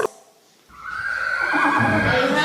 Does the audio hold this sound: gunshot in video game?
no